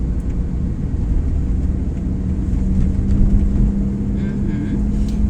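A car drives along an exam route road in Uzhhorod, its engine and road noise a constant low rumble from inside the cabin, while someone talks over it throughout.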